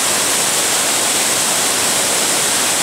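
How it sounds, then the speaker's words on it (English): Devathura Falls in the Sri Lankan hills gives off a steady, even rush of falling water, a constant broadband hiss with no breaks and no voices. "That's the Deva Thura Falls"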